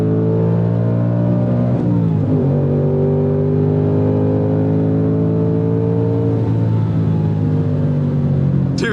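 A 2024 Ford Mustang Dark Horse engine on a race track, loud and close, holding a steady high rev. The pitch dips briefly around each gear change, then climbs again in a strong continuous drone.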